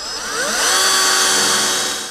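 A power drill whines steadily while boring holes for screws during a roof-top tent conversion install, loud and close, its pitch sliding up as the motor spins and holding for about two seconds with no talking.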